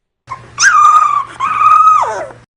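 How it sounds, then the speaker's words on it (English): A puppy whimpers in two drawn-out, high, nasal whines, the second sliding downward at the end, close and clear over a faint low hum. "Here's a cute puppy."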